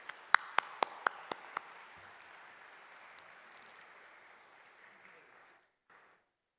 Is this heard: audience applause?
yes